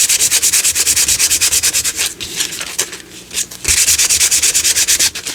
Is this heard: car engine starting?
no